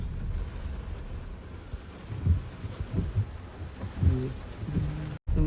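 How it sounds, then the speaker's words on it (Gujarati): Heavy rain pours down on a village in a steady, dense hiss, with low rumbling thuds rolling underneath throughout. "ગામમાં ફૂલ વરસાદ જોઈ શકો છો તમે."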